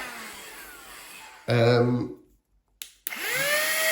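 A small handheld electric vacuum blower, bought from Amazon and fitted with its blower nozzle, switches on loudly with a steady whirring hum for about a second, then cuts out; quieter background noise surrounds it.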